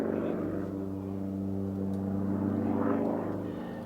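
An aerobatic plane flying a vertical flick roll at the RAF Waddington Airshow 2006 gives a steady, droning propeller-engine hum with layered tones, moderately distant and holding even throughout.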